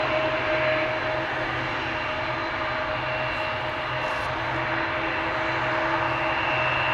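Embraer 175 jet at Amsterdam Schiphol Airport, a continuous engine roar with steady tonal whines, sustained and moderately near with no voices.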